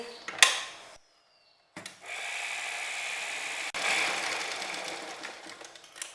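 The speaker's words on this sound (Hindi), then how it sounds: "अब हम इसे इस तरफ यहाँ पर ये सिलाई लगा लेंगे।" A sewing machine stitches the seam of a girl's skirt, a close steady whirring run after a brief click and a short silence, with a faint clatter of handling at the start and end.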